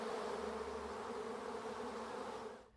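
A swarm of about 30,000 honeybees buzzes in a dense, steady drone that stays even throughout, then fades abruptly at the end.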